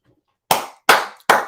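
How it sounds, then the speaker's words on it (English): Three sharp hand claps ring out, evenly spaced after a short silence, each crisp and close with a quick decay. "clap your hands to snap you back into the now"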